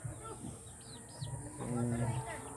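Neighbor's chickens near a backyard nest area clucking and cooing softly at a moderate distance, with someone talking over them.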